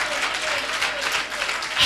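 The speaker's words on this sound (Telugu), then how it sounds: "నమ్మేవాళ్ళు చప్పట్లు మారుమోగించాలి." A church congregation bursts into sustained applause, dense and continuous clapping from a large crowd filling the hall for its whole short length.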